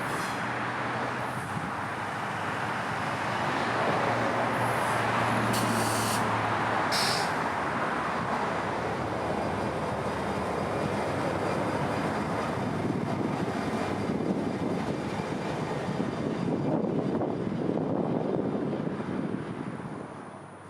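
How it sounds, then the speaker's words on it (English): Florida East Coast Railway locomotive 430 backing into a siding at the North Bayard switch to run around its short train at night: a steady, loud diesel engine rumble with broad wind-like noise, continuous throughout and nearby. "430 would be coming up to the switch here at North Bayard in order to run around his train"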